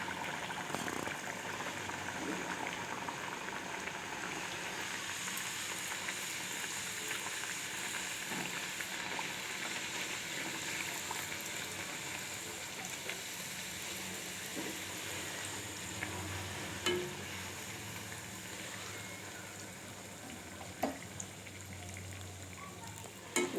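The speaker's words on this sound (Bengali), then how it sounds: "আমি পুরিটা ছেড়ে দিচ্ছি তেলের মধ্যে।" Nan puri deep-frying in hot oil, a steady close sizzle and bubbling hiss that continues without break, with faint clicks now and then and no talk.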